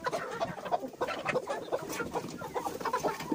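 Hens and a rooster clucking near a nest in a poultry yard, a busy overlapping series of short clucks and murmurs at moderate distance, fairly quiet and without talk.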